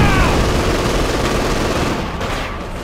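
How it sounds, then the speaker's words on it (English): Dense, continuous heavy machine gun fire in the World War II strategy game Company of Heroes 2. A loud, unbroken stream of rapid shots fills the whole stretch and eases slightly toward the end. "Heavy machine gun north of the breach!"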